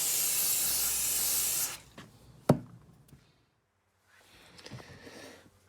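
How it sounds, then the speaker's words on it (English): Brake cleaner sprays onto a Stanley No78 rebate plane in one loud, close, hissing burst lasting under two seconds, followed by a sharp knock, faint handling clatter and a brief quiet rustle. "we'll first give it a bit of clean with some brake cleaner"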